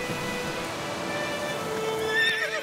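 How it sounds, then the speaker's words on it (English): A horse neighs in the video game The Witcher 3: The Wild Hunt, a rising whinny near the end over a steady ambient game background. "Luckily, Geralt can always count on his horse, Roach, to help him in his travels."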